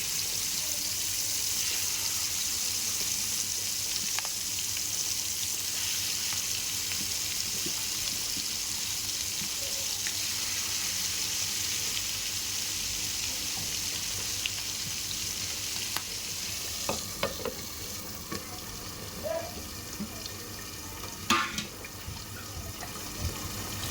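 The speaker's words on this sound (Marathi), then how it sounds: "आता आपण फ्राय करायला आपले जितारे टाकलेले आहेत तव्यावरती" Continuous loud hiss of jitada fish (Asian seabass) frying on a hot griddle, steady throughout, with a few faint clicks and pops toward the end.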